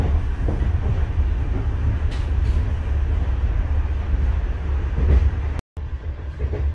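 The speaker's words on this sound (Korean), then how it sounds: "예, 베니스 열차 갑니다." A train running from mainland Venice to Venezia Santa Lucia station on a December night, with a loud, steady rumble of wheels and carriage noise and a brief dropout near the end.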